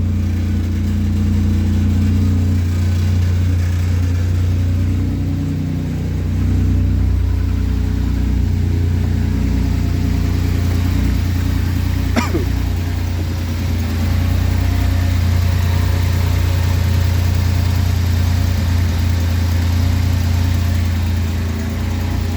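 The KITT car's engine runs noisily after starting, a loud, steady idle with a deep rumble that holds throughout, broken by one brief high whine partway through.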